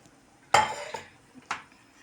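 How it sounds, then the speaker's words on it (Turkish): Rice being stirred in a metal pot while cooking pilaf, heard as two or three close scraping, clinking strokes of a utensil against the pot with short pauses between them. "Böyle yapışan pirinçler varsa karıştırıyoruz güzelce."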